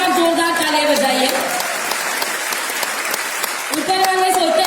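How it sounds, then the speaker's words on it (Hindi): An audience claps loudly and steadily for a few seconds at a motivational talk, with someone speaking into a microphone just before the applause swells and again as it fades. "आप अपने आप के लिए एक बार जोरदार तालियां बजाइए।"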